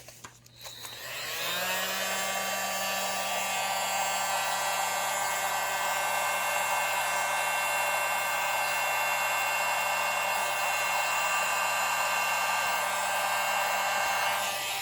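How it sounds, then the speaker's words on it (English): A small handheld blower runs steadily and loudly at close range, drying black acrylic pour paint on a fluid-art canvas; it switches on after a second and holds a constant whooshing whine throughout. "Use my little tiny blower."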